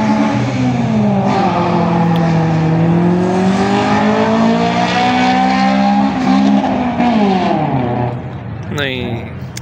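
A drag race car accelerating hard at a drag car show in Islamabad, a loud, close engine roar rising in pitch through several gear changes before easing off, with people talking over it.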